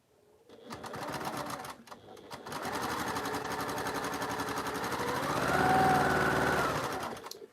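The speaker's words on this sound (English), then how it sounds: "So I'm going to sew those 2 together there." A sewing machine stitches quilt pieces together for a Double Carpenter's Star quilt, running in a steady, rapid mechanical chatter close by, with a brief stop early on before a long continuous run that swells slightly then winds down.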